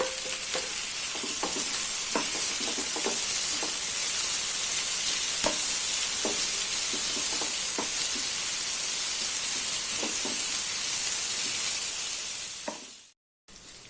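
Tomato, green chili, ginger and curry leaves fry with onions for onion masala, a continuous close sizzle with light spoon scrapes and taps throughout, ending in a brief cut to silence.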